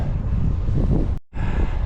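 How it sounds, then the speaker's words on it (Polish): Steady wind rushes loudly across a microphone while cycling on a long road ride in Radom county, Poland, a broad continuous roar with one brief cutout near the middle. "Także dzisiaj bardzo pomaga ten wiatr"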